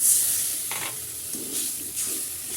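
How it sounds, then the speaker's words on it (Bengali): Spice masala with tomato and a little water sautéing in a pan for drumstick curry, giving a continuous close sizzle with a few soft stirring scrapes. "এটাকে একটু কষে নেব। কষার ভিতরে দিয়ে দেবো টমেটো, দিয়ে দেবো সামান্য জল।"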